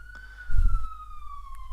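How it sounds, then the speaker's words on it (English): A police siren wails steadily outdoors in the distance, a long sustained tone drifting slightly downward in pitch, with a brief low rumble of nearby movement partway through. "I got some sirens going on."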